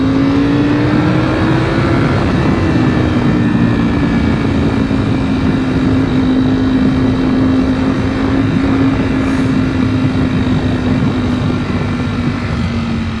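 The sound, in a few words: Ducati V4 SP motorcycle engine while riding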